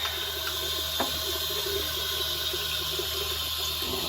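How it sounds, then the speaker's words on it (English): Water runs steadily from a tap into a bathroom sink, a constant close hiss and splash with a few small clunks, no talking. "A little more water in the sink here"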